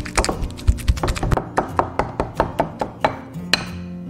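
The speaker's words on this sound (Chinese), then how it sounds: "然后给它捣成香蕉泥" Repeated rhythmic thuds of a banana being mashed into puree in a bowl, a steady series of close, sharp knocks about every quarter second, with no talking.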